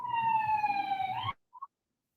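A single wailing siren tone sweeps steadily for over a second, then cuts off, followed by a brief faint chirp.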